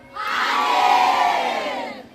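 A crowd of junior high school students at a school outreach session shouting a children's rights chant in unison, one loud sustained group shout lasting about two seconds.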